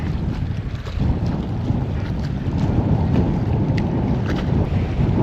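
Steady, loud wind buffeting the microphone while bass fishing from a boat on open water, a continuous low rumble with no voices.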